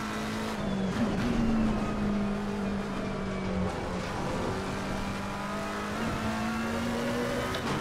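A race car engine drones continuously during driving in the racing game Assetto Corsa Competizione V1.2, a steady, near tone with slight pitch dips and rises as the car shifts and accelerates.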